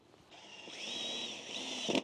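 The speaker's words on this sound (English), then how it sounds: "drill into the piping through." Power drill boring a pilot hole through piping for a hinged hoop house over raised beds, a steady, moderately loud whine that holds for over a second and a half before a brief scraping finish.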